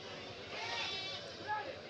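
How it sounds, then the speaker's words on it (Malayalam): Billy goats at a busy goat market in Kilimanoor, Kerala, bleat among a murmur of crowd chatter, one louder call rising clearly near the middle of the short stretch. "രണ്ട് മുട്ടനാടുകളെ വാങ്ങിക്കൊണ്ട് വരുന്നുണ്ട്."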